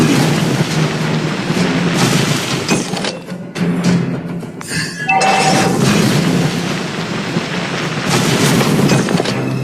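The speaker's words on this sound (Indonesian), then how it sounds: "Our turret has been destroyed." A turret is destroyed in the Mobile Legends video game, heard as loud booming explosion effects with dense game audio around them and a brief quieter dip midway.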